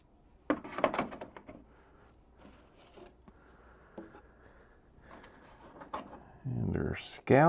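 Drawers of a Deep Rock Galactic Deluxe 2nd Edition board game box slide open and shut with short scraping knocks and soft clicks, close and moderately loud, under someone talking, ending in a louder rustle.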